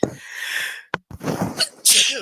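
A single loud, close sneeze with a sharp intake of breath beforehand and a bit of breathy movement after.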